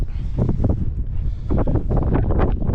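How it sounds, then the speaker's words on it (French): Strong coastal wind gusting up to about 22–23 knots near the Hyères islands, a rough, rumbling buffeting against the microphone that swells and eases continuously. "on a eu du vent avec des rafales à 22-23 nœuds"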